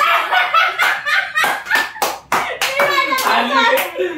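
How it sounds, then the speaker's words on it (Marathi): A few sharp hand claps ring out during a playful home quiz game, mixed in with children's chatter and laughter. "हिने टाळी तर मारली"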